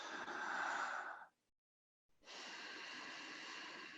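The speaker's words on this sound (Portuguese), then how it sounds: "Então inspira profundamente pela boca" Deep breathing exercise during a kundalini kriya: a long, close inhalation through the mouth, followed by a second of silence and then a long, steady breath resuming, with no talking.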